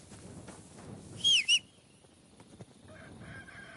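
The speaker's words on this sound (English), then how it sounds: "People do moan when we whistle." A character in the video game Kingdom Come Deliverance 2 gives a quick two-note whistle, bright and clear, that rises over quiet ambient game sound and then fades back into a soft background hum.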